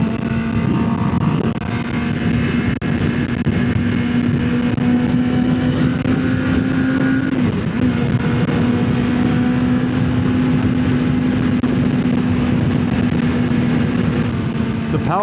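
600cc sport bike cruising on an interstate, a steady droning engine hum with a brief dip midway, loud and close under heavy wind rush.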